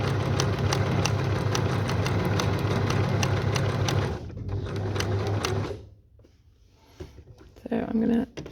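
Machine appliqué stitching on a sewing machine, a fast steady whirring chatter of needle strokes running loud and close for several seconds, then stopping, followed by quieter handling noises and brief bursts of renewed stitching.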